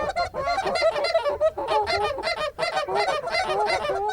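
Small Canada geese honking continuously in a busy flock, loud and fairly close, with overlapping calls and no pauses.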